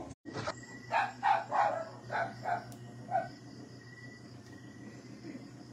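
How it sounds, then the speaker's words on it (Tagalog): Dogs bark outdoors at night, a run of about six fairly close barks in quick succession, then quieter background with faint distant noise. "Ngayon yung mga aso."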